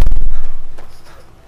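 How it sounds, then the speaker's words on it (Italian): In the Skyrim video game, a door is slammed shut by the wind, a heavy, booming impact that rings with a rumbling, pulsing decay as it fades quickly, loud and close. "C'è il vento che chiude la porta!"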